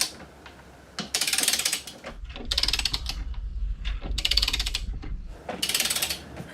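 A torque wrench ratchets in several bursts while bolts are tightened on a BMW racing sidecar, with crisp, close clicking strokes separated by short pauses.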